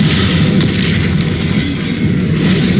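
A loud, sustained fiery blast from the Confringo spell in the video game Hogwarts Legacy, with dense rumbling roar filling the whole moment without a break.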